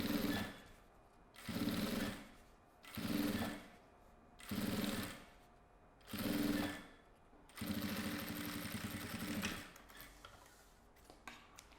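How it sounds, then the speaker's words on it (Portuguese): A sewing machine topstitches a seam on a double-compartment pencil case in five short bursts of rapid stitching, then one longer run, each separated by brief pauses, close and moderately quiet. "Então, alinha tudo, vai na máquina e rebate a costura."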